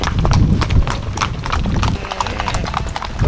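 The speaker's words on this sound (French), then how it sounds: "Ça c'est vraiment un truc typique de la Camargue, les chevaux lâchés comme ça et tout." Free-roaming horses in the Camargue, their hooves clopping in a quick, uneven rhythm close by, loud and continuous with no voices over them.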